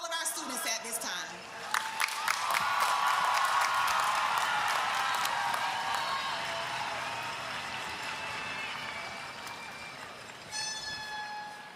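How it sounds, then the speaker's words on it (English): Applause from the crowd at the Eagles Landing High School 2024 commencement swells into a broad, sustained roar with horn-like blasts and whistles on top, then gradually fades toward a quieter tail. "Please give a round of applause for all of our students at this time"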